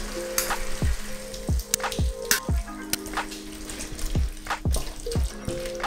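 Canned pineapple pieces hit a hot pan and fry with a bright crackling sizzle, punctuated by repeated scraping strokes and occasional sharp pops, fairly close and with no voices.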